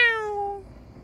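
A single cat gives one clear, close meow that falls in pitch and fades within about half a second, followed by quiet.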